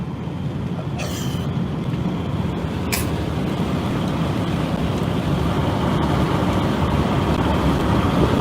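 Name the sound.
wind noise while driving on a highway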